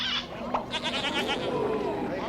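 A goat bleats in a long wavering, quavering cry close by, filling the short moment, with faint background sound beneath it.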